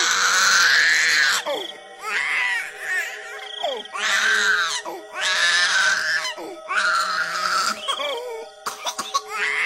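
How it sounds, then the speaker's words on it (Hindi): A hungry baby cries in repeated loud wailing bursts with short gasping pauses between them, close and insistent, over a faint steady tone. "दूसरी तरफ बच्चा भूख से रोने लगता है"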